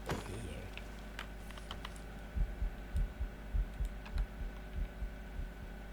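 Heartbeat effect from a Minecraft horror mod: repeated low, thudding double beats in a steady rhythm over a constant hum and scattered game tones, growing more prominent after the first couple of seconds.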